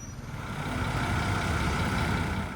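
A city bus engine in Bangkok idles and rumbles as a steady, low mechanical drone, fairly close and constant for a couple of seconds, with no voices.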